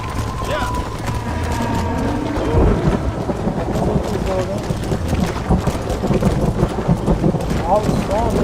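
Thunderstorm in Red Dead Redemption: steady heavy rain and rolling thunder, with horse hooves clip-clopping through the downpour and a loud thunder crack midway, the whole scene dense and continuous.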